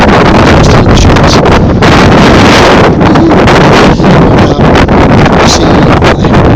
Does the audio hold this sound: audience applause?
no